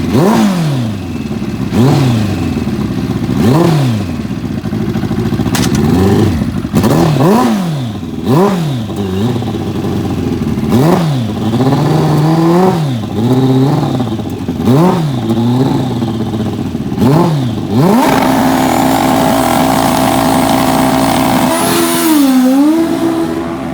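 A turbocharged Kawasaki ZX-11 drag bike, Steve Rice's funny bike racer, revs loudly and close by in repeated rising and falling bursts over a rough idle, then settles into a steadier higher drone near the end.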